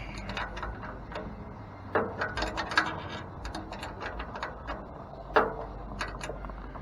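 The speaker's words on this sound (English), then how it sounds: "So we'll tighten up this rear lower hardware with a wrench." Metal hand wrench clicking as it tightens the rear lower mounting hardware of a running board on a 2015 Ford F150, a steady run of small close ratcheting ticks with a few louder knocks.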